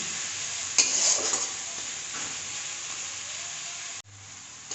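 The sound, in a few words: spices frying in oil in a pan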